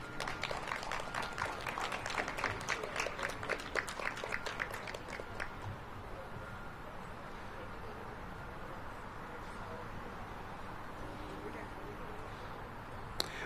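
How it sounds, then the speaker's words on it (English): Audience applause for gun-violence-reduction grant recipients at a Washington, DC mayoral awards event: a dense burst of clapping for about five seconds that then fades into a quieter room murmur. "I want to give one more round of applause to our grant recipients"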